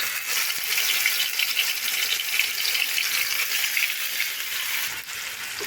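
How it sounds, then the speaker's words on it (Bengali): Spiced fish hits hot mustard oil in a pan on a gas stove, giving a steady, close crackling sizzle that holds evenly for a few seconds with no talking. "এখন মশলা মেখে রাখা মাছগুলো দিয়ে দেব।"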